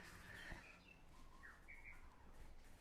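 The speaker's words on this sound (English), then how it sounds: "The birds are making too much noise." Several birds chirp and call on and off, short bright tweets and a few rising notes over steady outdoor background noise, moderately distant and faint.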